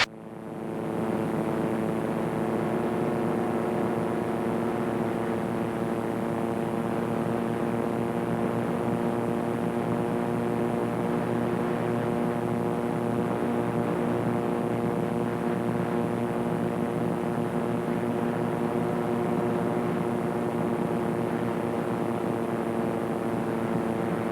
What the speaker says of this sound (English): you can feel the aircraft slowing down, kind of feel the wind through the wires. Maybe hear it a little bit.